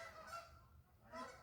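Two faint, distant honks from geese, one near the start and one near the end, over a quiet low background with no talking.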